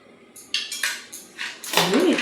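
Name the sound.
mixing chaat with spices and lemon juice in bowl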